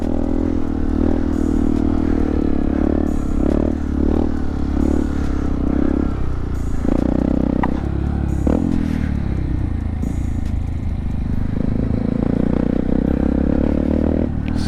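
A Honda Grom motorcycle rides over an uneven, bumpy road, its small engine droning steadily up close while rattles, clunks and scrapes from the rough surface punctuate the ride.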